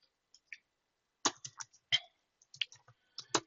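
Short irregular bursts of computer keyboard keystrokes as a command is typed, crisp and close with gaps between clusters of clicks.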